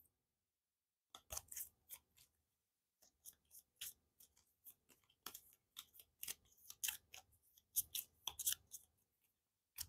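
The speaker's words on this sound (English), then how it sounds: "So we're going to shuffle these up." Game cards from the board game Earth's solo mode are shuffled by hand, a quiet run of quick crisp riffling snaps and flicks in uneven bursts, with no talking.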